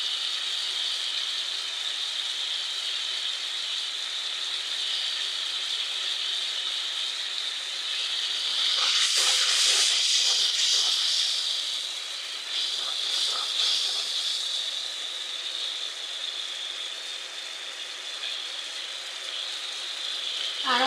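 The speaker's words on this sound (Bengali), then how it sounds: "তরকারি মশলাটা কষায় নিব, দেখতে থাকুন। দিয়ে দিলাম একটু রসুন বাটা।" Garlic paste and curry spice paste fry in a pan for a katla fish curry, giving a steady close sizzling hiss that swells briefly midway, with no talking.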